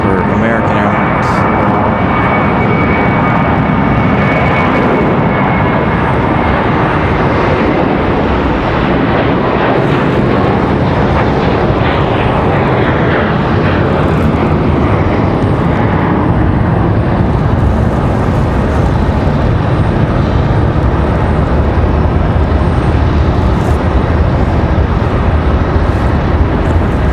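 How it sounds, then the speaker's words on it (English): An American Airlines Airbus A321 jet departs at Raleigh-Durham airport, a loud, sustained engine roar filling the clip with a rising whine, with faint talk beneath it. "A321 departure for American Airlines."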